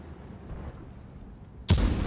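A cannon blast from a video game battle bursts out sharply near the end, loud and sudden after a quiet, low rumbling lead-in.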